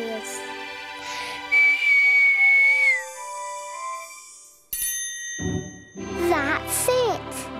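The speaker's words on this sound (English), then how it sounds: "If we whistle, we can make the stars jingle" A sustained whistle holds a steady high pitch for about two seconds in the Cloudbabies cartoon, followed by brighter tinkling, chiming star tones with some playful vocal sounds.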